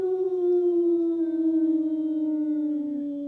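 A dog howls in one long, steady, sustained note that slowly falls in pitch, loud and close, with no talking over it.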